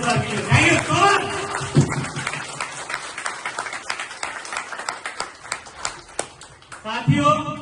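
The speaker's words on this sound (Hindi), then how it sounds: "ताली से स्वागत करते हैं सर के लिए" An audience at an awards and appreciation ceremony claps steadily to welcome a guest, a dense patter of hands running through the middle, with someone speaking over it at the start and end.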